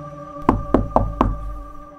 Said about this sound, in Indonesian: tiba-tiba pintu rumahnya diketuk